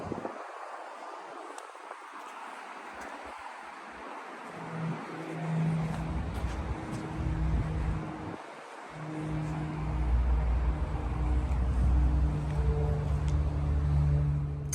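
A Porsche Macan EV's air suspension lowers the body, a steady compressor-like hum and hiss building over several seconds under outdoor wind noise.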